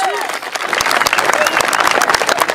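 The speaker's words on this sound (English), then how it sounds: "Let's give him a big round of applause." A crowd breaks into applause for a winning Everett high school football coach at a field ceremony, busy clapping and cheering close by with some voices mixed in.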